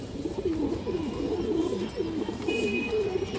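Colorful domestic pigeons, a red-eyed pair, coo in repeated soft throaty rolling phrases, fairly near and quiet, with no talking over them.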